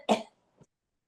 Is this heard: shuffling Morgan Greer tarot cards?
no